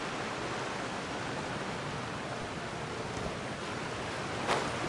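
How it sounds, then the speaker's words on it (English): A steady rushing roar of a waterfall in Genshin Impact's Fontaine region, continuous broadband noise at moderate level with a brief brighter splash near the end. "Behind the waterfall?"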